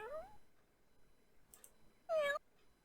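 Cartoon cat in a Barbie flash video game giving a short meow, a faint rising mew first and then one louder, clear meow near the end over a quiet background.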